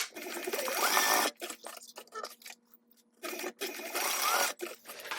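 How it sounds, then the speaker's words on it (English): A sewing machine basts fabric pieces together with a quarter-inch seam, running in two close bursts of rapid stitching with a pause in between. "I'm gonna go ahead and clip them together and baste them together at 1/4 inch."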